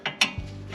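A ratchet clicks in three short, sharp bursts while tightening a tie rod end nut on a 2010 Toyota Camry, with a low mechanical knock between them.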